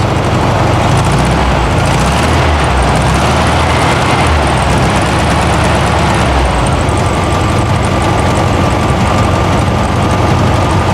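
A 1972 VW Karmann Ghia engine with an exhaust leak idles steadily, a rough low rumble and raspy, puffing exhaust note, running continuously and close by.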